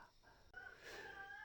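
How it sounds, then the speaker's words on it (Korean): Roosters crowing in a chicken coop right beside a farmhouse room before dawn, a sustained strained call rising and holding over quiet background, moderately close and fairly faint. "그러다 보니까 이제 수탉들의 울음소리가 요란한데요"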